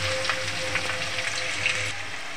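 Chopped onion sizzling in hot oil with bay leaves and tempering spices for a lemon chicken curry, a steady loud frying hiss with no talk.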